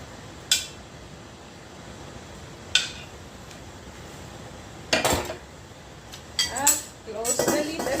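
A utensil scrapes and clinks against a pot while squid adobo simmering in coconut milk is stirred, giving several sharp metallic knocks spaced over a quiet background, with a brief voice near the end.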